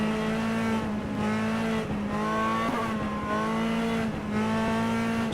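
A race car engine in the Assetto Corsa or Automobilista driving simulator roars at full throttle, a loud, sustained, harmonically rich drone with brief regular dips about once a second, with no talking.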